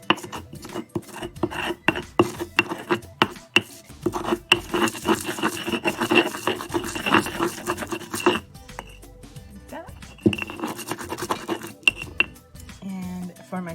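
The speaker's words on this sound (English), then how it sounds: "So you're just going to grind that into a paste like that." Dried chile piquin is ground into a paste with repeated scraping, rasping strokes close by, rhythmic at first, then denser grinding with a few pauses.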